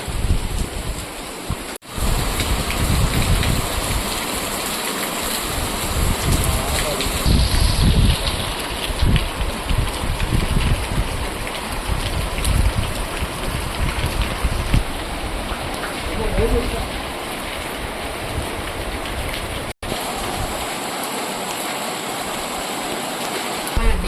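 Heavy monsoon rain pours down in a forest with rushing runoff water, making a dense, steady roar that holds for the whole stretch with little change in loudness.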